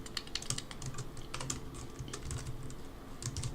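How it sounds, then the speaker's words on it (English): Someone types steadily on a computer keyboard at a desk, with fast, even clicks of keys going on throughout, fairly close and quiet, and no speech. "you just listen to this typing"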